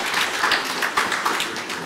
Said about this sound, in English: 2 rounds of applause.